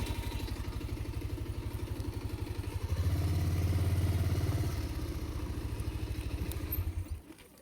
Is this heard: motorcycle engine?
yes